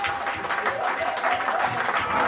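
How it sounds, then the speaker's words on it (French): An audience at a church gathering claps together, a fairly loud, dense burst of hand claps running throughout, with voices mingled underneath. "Applaudissez pour nous"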